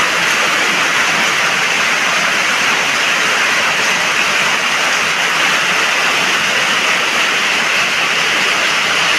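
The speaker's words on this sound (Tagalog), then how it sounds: "Naririnig niyo po ba ang lakas ng ulan?" A dense, loud roar of heavy rain pours down without a break, a constant hiss like water drumming hard on a roof.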